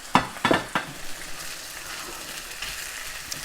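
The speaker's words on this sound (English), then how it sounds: "whilst the meat is in the frying pan" Chicken for sweet and sour chicken frying in a frying pan, a loud sizzle with a few sharp crackling spatters at the start, then a steady hiss close by, with no talking.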